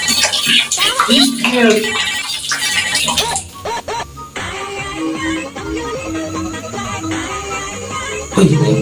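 A telephone rings with a repeating electronic tone in a Balinese comedy sketch, and voices talk loudly over and around it.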